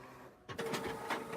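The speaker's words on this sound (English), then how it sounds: "And the printer goes back to printing." An inkjet printer resumes printing after ink maintenance, its mechanism starting up with a buzzing whir after a brief quiet moment and running steadily with rhythmic feed and carriage movements, close and clear.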